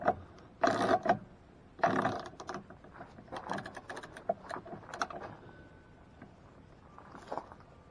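A ratchet tightens a tough nylon lock nut during a truck camper jack conversion, giving bursts of clicking and grinding strokes at close range with pauses between pulls, loud at first and trailing off into quieter turns.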